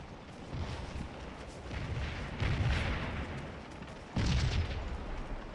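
Artillery guns firing in the Scourge of War battle at Stones River, deep booming cannon reports with rumbling tails, two heavier blasts standing out over continuous distant battle noise.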